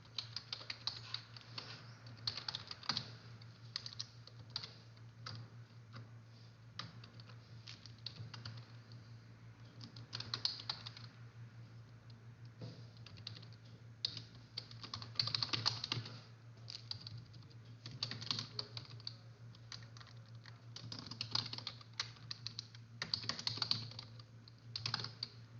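Steady typing on a computer keyboard while code is entered for a DataPower and API Connect test running in Docker, with continuous soft key clicks at a close, even pace over a low constant hum.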